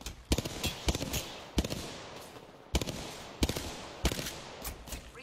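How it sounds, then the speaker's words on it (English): Video game gunfire in a battle royale match sounds as repeated sharp bursts of shots in quick clusters, moderately distant and fairly quiet, over a steady background roar with no talking. "Steven's getting shot at"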